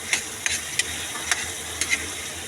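Vegetables and sardines stirred in a frying pan: a soft sizzle runs underneath while a utensil scrapes and clicks against the pan in irregular strokes, close by.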